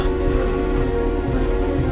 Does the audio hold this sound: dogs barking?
no